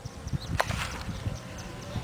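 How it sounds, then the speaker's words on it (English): Bees buzz around a crested cactus flower outdoors, a faint brief hum with small bursts of wingbeat noise as insects move near the blossom. "bees are over here and enjoying it too"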